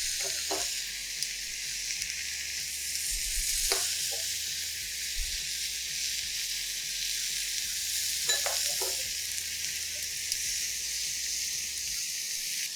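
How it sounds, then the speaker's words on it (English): A vegetable sizzler with butter sizzles steadily on a hot plate, a constant crackling hiss with a few sharper pops and spatters, close and fairly loud, no voices. "Now we will use some butter and place it in the sides. That will help with the sizzling."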